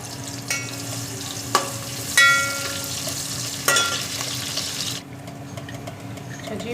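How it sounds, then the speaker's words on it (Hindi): Onions browning in oil in a cooking pot, a steady close sizzle with a few sharper clinks and stirring scrapes, the frying hiss dropping off near the end. "इसमें ऑयल डाला, प्याज ब्राउन करूँगी"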